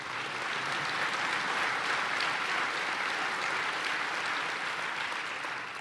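Sustained applause from an audience following a political speech on NATO defence in Estonia, a dense steady clapping wash lasting throughout at even loudness with no speech over it.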